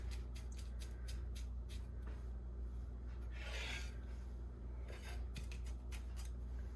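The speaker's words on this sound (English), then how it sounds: "So I'm gonna chop this up just a little bit finer" A knife taps rapidly against a cutting board, chopping ranch seasoning ingredients finer in a quiet kitchen, with steady close-up clicks that pause briefly before resuming.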